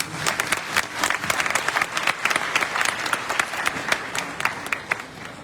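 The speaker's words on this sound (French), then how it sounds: "S'il peut s'élever, que vous allez applaudir pour lui." An audience at a conference at a Faculty of History and Geography applauds a retired national director, dense rapid clapping from a crowd at a sustained level for several seconds.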